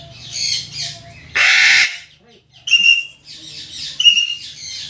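A young Eclectus parrot gives a loud, harsh squawk, then a series of shorter, higher raspy chirps and calls, close to the listener with no talk over them.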